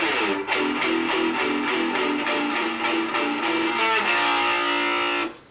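A heavily distorted electric guitar hammers out a steady run of chugging strums, loud and dense, before stopping abruptly.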